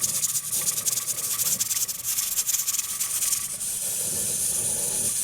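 A pressure canner weight on an All American canner loaded with raw meat and dry beans jiggles and vents, producing a loud, continuous close hiss with fast rattling texture and no pauses.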